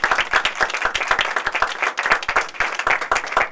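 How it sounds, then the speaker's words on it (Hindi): Congregation at a Christmas meeting of Evangelical Discipleship Church Ministries claps vigorously, a close, lively stream of many rapid hand claps running steadily throughout. "बाप के लिए जोरदार तालियां।"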